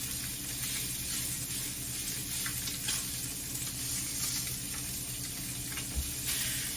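Low, steady sizzling of rainbow trout skin searing in a hot pan, with faint scraping and light clicks, quiet and continuous, no talking.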